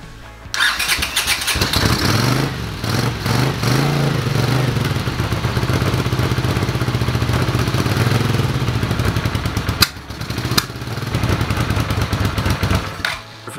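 A Honda CX500 motorcycle engine cranks over loudly and continuously with a rapid rhythmic starter chug for about nine seconds, pauses briefly after a sharp clack, then cranks again.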